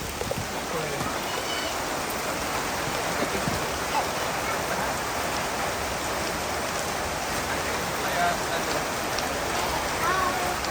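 Steady rain pours down over a river in a forest eco-park, a continuous near hiss of drops on water and foliage that holds even and unbroken throughout.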